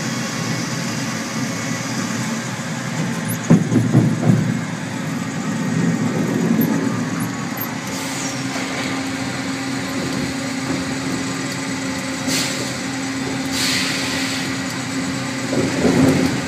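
A sawmill works through a big cottonwood log, its engine droning steadily with a few knocks and clunks from the carriage, loud and continuous with no talk.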